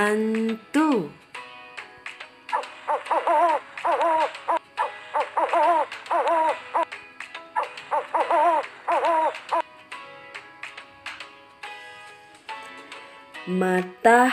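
An owl hooting in a repeated series of harmonic calls, moderately loud and fairly close, between brief voiced sounds near the start and end.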